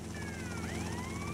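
Police car sirens in the video game GTA Vice City Stories wail with rising and falling tones over a constant rumbling background, steady and fairly loud.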